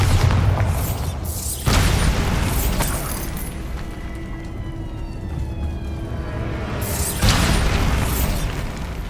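In Hogwarts Legacy, a Bombarda spell detonates with a heavy booming blast that rumbles and fades over several seconds before a second loud burst hits near the end, with faint mechanical whines lingering between them.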